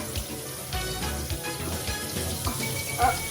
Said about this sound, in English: You just want to rinse it out with room temperature water.